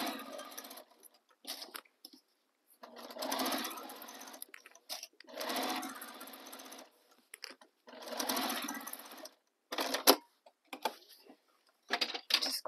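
A sewing machine stitches a tote bag seam in several short runs of fast, steady whirring, separated by pauses with small clicks and handling sounds; no talking.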